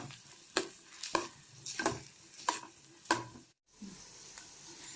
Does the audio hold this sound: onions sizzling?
yes